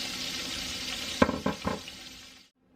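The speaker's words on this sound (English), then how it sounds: "I'm going to get them all seared." Pieces of beef sear in a hot skillet, a steady loud sizzle with a few clattering knocks as the meat is moved, then the sound cuts off to silence.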